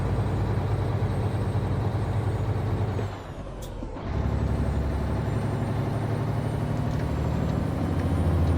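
A Mack R Series truck in American Truck Simulator pulls a single 20-foot pup trailer uphill. Its engine roars loud and steady at high revs, briefly dips during a gear change, then drones on again, with no talk.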